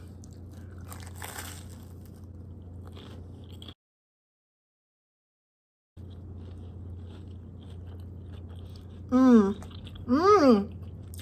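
Someone takes a bite of an onion and spinach grilled cheese sandwich, with muffled crunching and chewing close to the mic over a low hum, then a silent gap and a couple of voiced hums of approval.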